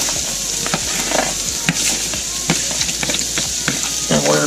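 Vegetables sizzling as they hit a well-seasoned cast iron skillet over medium heat, a continuous close frying hiss with scattered crackles and stirring scrapes throughout.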